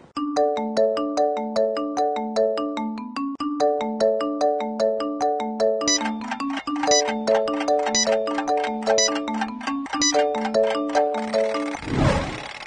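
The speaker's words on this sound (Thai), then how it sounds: "ออดหมดเวลาไปที่เรียบร้อยแล้วนะครับ" Ten-second countdown in a maths lesson: a bright, looping chime melody that grows busier, ending with a short, loud, noisy time-up buzzer.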